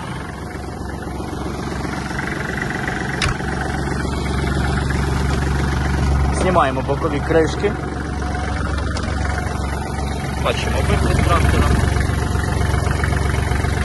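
A Kubota GL-260 Japanese mini tractor engine idles steadily with its side covers off, a continuous low rumble running throughout while someone talks over it.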